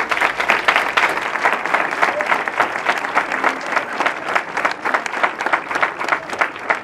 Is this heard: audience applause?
yes